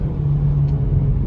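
Engine of a 2023 Nissan Versa S with manual transmission rumbles up close in a brief, steady low drone under acceleration.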